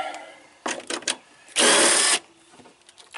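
A power tool spins out a 10mm bolt from the center of a truck bed: brief stuttering bursts, then one loud sustained whir of about half a second, and a few smaller rattles afterward, close up.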